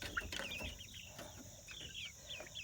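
Pastured chickens cluck and chirp softly around a coop door at morning, a busy low chatter of several birds over steady background noise.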